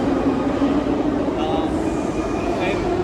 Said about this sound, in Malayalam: മറ്റൊരു റഷ്യൻ നിർമ്മിത ട്രെയിൻ അവിടെ വന്നിട്ടുണ്ട്